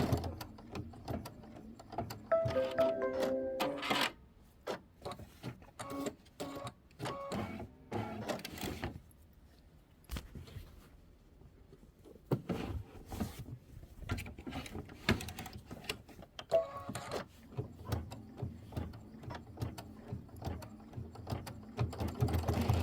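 A home embroidery machine stitches a Kimberbell March mini quilt, a busy mechanical whir of rapid needle strokes with brief pauses and restarts, close and steady throughout.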